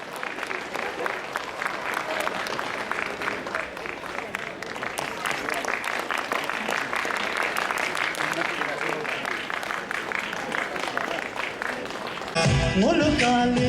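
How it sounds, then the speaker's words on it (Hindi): Audience applause at a talent show grand finale, a steady, dense wash of many hands clapping for over twelve seconds, fairly even in loudness, ending abruptly as music cuts in. "फिनाले है तो प्लीज तालियों की कमी नहीं होना चाहिए"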